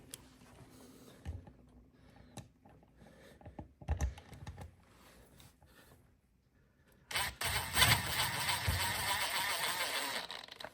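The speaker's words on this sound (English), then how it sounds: "put all 5 bolts in and make sure everything's sitting nice and neat" Bolts being fitted by hand into a Harley-Davidson derby cover: scattered close clicks and metallic taps, then a louder, steady rushing noise from about seven seconds to the end.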